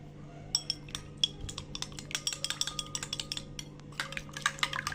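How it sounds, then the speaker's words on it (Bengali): An egg being beaten well for coating chicken aloo chop: a utensil clinks rapidly against a bowl in quickening, fairly even taps, close and moderately loud, with no talk. "ডিমটা ভালো করে ফেটিয়ে নিব।"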